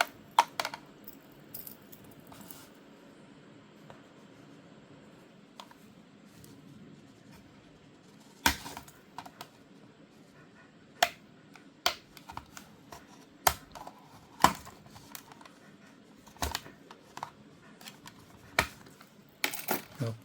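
A Hot Wheels Silver Series Toyota Celica is unboxed in a quiet room, with scattered crisp plastic and cardboard clicks, crackles and taps from the blister-card package, several sharper snaps standing out, and no talking.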